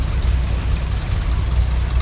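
A 1953 Minneapolis Moline G tractor engine rolls past in a summerfest tractor parade, a low heavy rumbling chug held steady and close throughout.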